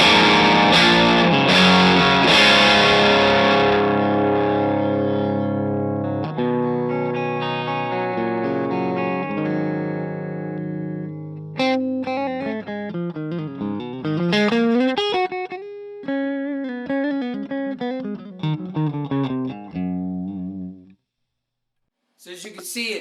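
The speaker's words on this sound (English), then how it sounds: "Basically, it's overdriven, but I can back off the volume as I showed you, and it'll just completely clean up." Electric guitar played through an overdriven Audio Tonerod amp rings out loud and close, starting with big sustained distorted chords, then moving into picked, bending single-note runs before a short pause and a final strum.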